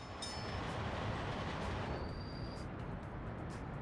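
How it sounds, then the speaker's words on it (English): A coal train loads at a station in the video game Workers and Resources, a steady rumbling rail wash with faint metallic squeals and a brief thin whine, with no voices. "my little coal train here is loading up on our plethora, our very healthy supply of coal"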